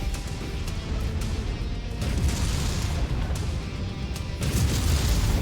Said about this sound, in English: that's a critical explosion